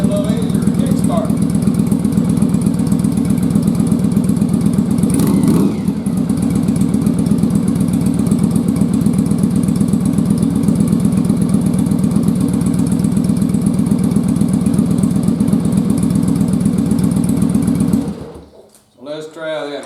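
A first-generation Yamaha Virago motorcycle engine idles loudly and steadily up close after a kick start, with a rapid even putter, then cuts out near the end.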